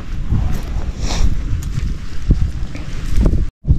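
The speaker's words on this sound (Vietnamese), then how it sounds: "Gió rất là to." Strong wind roars and buffets the microphone outdoors at a natural fishing spot in China, a loud continuous rumble with gusty swells and no talk.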